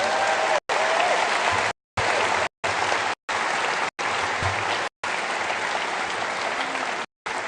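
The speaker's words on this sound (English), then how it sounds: "I would like to give them a round of applause" Convocation audience applauding faculty and staff, a loud steady wash of clapping from a large crowd, broken by several abrupt silent dropouts, with faint voices beneath.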